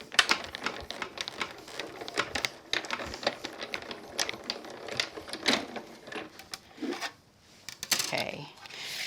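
A die-cutting machine runs cutting plates through to cut a poinsettia Christmas card, giving close, irregular clattering and grinding with rattly clicks, then a quieter moment before the rattling resumes.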